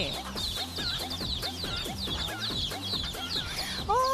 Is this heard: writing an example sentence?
no